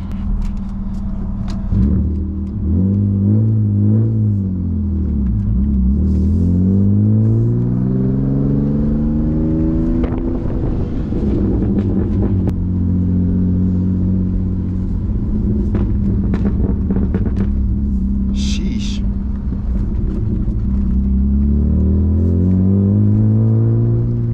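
A BMW E36 328i idles after a warm start, a loud, steady, close engine rumble with a couple of gentle rev swells that rise and settle back to idle, with no talking.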